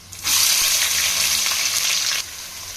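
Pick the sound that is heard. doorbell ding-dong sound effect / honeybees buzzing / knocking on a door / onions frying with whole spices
onions frying with whole spices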